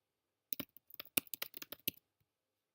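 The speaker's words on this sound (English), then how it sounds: "So I'm going to go ahead and type this information in." Typing on a computer keyboard: a quick run of close, crisp key clicks lasting about a second and a half, then quiet.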